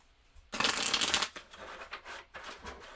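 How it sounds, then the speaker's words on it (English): A deck of playing cards for a solo board game gets shuffled up close: a loud riffling burst followed by a few softer flicks and taps of cards settling. "Shuffle these ones one more time."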